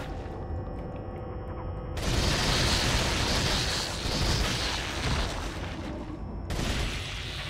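Heavy, sustained gunfire from Resident Evil 4 in a sewer area, a dense, loud barrage of shots running nearly the whole stretch with no talking.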